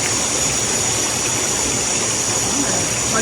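A waterfall feeding a stream, its water rushing in a loud, steady, broadband roar that fills the whole stretch without pause.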